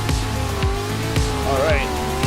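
A race car on a dirt road in iRacing spins out, its engine droning loudly with whining revs and a rising tire squeal, with a voice talking over the game sound.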